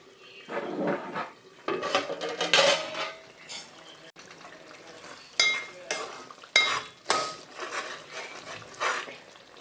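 Spoon stirring black pomfret fish curry in a pan, with repeated scraping and clinking strokes in uneven bursts over a soft simmer, close and moderately loud, no voices.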